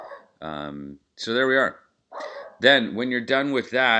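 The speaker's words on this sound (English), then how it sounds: "Sorry about the dog in the back." A dog barks several times in quick bursts in the background of a room while a person talks over it.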